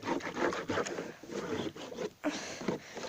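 Rabbit cage floor tray being scrubbed with water, a steady rasping, rubbing scrape in repeated strokes, close and fairly loud, with a brief pause near the end.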